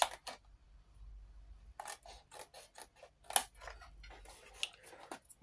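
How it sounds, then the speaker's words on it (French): Small scissors snipping and bevel-cutting, heard as quick, close clicks and short crunchy cuts in an uneven rhythm, with a brief pause before the snipping resumes. "Cherchez mon petit ciseau. Et on vient faire comme des boîtes, hein, c'est-à-dire couper,"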